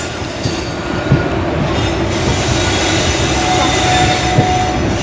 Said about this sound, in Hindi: तो सामने लगी है राजगीर लोकमान्य तिलक एक्सप्रेस